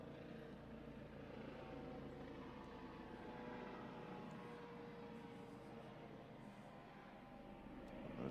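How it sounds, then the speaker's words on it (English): A helicopter passing over a cricket ground during a championship match, a faint, steady distant rotor drone that swells slightly toward the end, with no talk. "That is a very loud helicopter."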